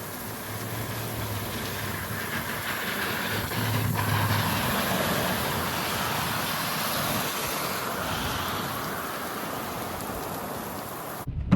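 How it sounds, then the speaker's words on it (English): Heavy rain pours steadily and loudly, a dense continuous hiss that swells slightly partway through and cuts off abruptly at the end. "This rain is getting like acorns now."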